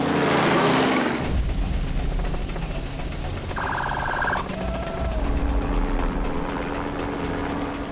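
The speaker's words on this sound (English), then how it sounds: "I can hear the helicopter has gone up," A helicopter drones overhead above an impala herding enclosure on a lion reserve, a steady rotor roar sustained throughout, with a brief higher beeping tone midway and a loud gust at the start.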